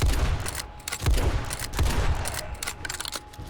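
Rapid automatic gunfire in 7 Days to Die during a horde night, with close, dense bursts and repeated heavy low thumps forming a steady fusillade that thins slightly toward the end.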